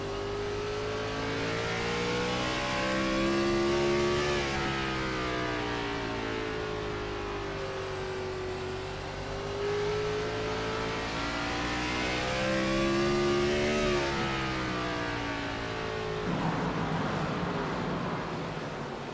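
IROC race car engine at Irwindale, a loud nearby drone that rises in pitch through several long climbs, drops sharply between them and revs toward near wide open, with no talk over it.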